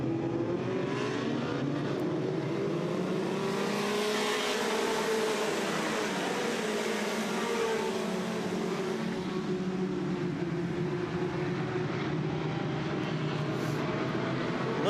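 Race cars on a Southern Ontario dirt track produce a dense, continuous roar of many engines, loud and steady throughout, with pitch swelling and sagging as the pack circulates and no voices over it.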